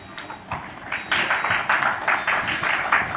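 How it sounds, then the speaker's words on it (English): Audience applause for conference panelists, a continuous crowd clapping in a hall, fairly close and steady throughout, with a faint high electronic tone sounding intermittently. "Let's give a big round of applause to our panelists"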